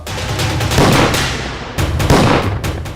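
Rapid bursts of gunfire in an Odia TV serial, two dense volleys of overlapping shots with a short gap between, loud and close, with no talk over them.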